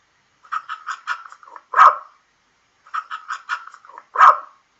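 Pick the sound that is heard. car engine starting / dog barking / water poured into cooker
dog barking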